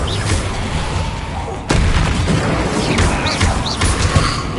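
A Bombarda spell explosion from the video game Hogwarts Legacy hits with a sharp, loud boom partway through, then a dense roar of rubble and game noise carries on at high volume, joined by a few whooshing effects.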